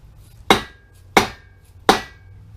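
Three sharp, heavy hammer blows on wood, evenly spaced about seven-tenths of a second apart, each ringing briefly before a quiet pause, during a Ford 8.8-inch differential rebuild.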